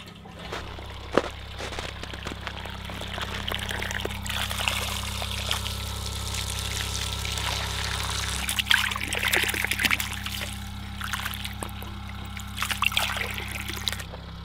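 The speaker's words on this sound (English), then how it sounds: "So we've had the hose running for just about 15 or 20 minutes." Clear well water running steadily from a hose after about 15 to 20 minutes of flow, a continuous trickling pour over a constant low hum from a generator nearby.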